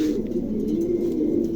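A male pigeon for sale coos steadily and close by in a loft, a low throbbing call that runs without a break, with no one talking over it.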